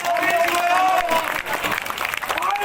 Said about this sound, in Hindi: तालियां सभी।